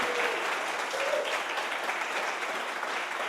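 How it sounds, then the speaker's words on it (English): Audience applause welcoming an author at a storytelling festival screening event, a steady dense wash of clapping from a full room, sustained and even throughout with no voices over it. "give Michael Farris Smith a big round of applause"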